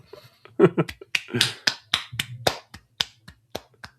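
Sharp, rapid hand claps ring out alone in an irregular burst of about a dozen loud, close strikes, closing out a film podcast episode about Cannes Palme d'Or predictions.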